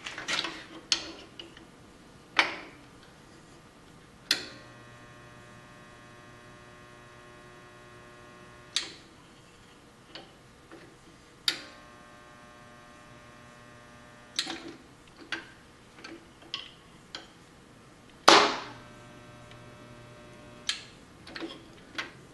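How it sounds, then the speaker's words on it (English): Spot welds struck across the back of a steel piece in a workshop, a series of sharp, brief crackling bursts spaced irregularly over a low electrical hum. "I'm going to go ahead and I'm going to run three spot welds across the back"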